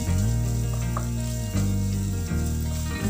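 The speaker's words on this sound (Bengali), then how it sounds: "এবার আদাটাকেও খুব ভালো করে ভেজে নেব।" Finely chopped ginger (about an inch) fries in hot oil in a pan while cooking chicken lollipop, a loud, continuous close-up sizzle, with background music running underneath.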